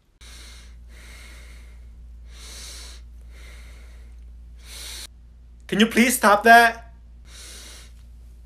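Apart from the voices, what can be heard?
heavy nasal breathing, snorting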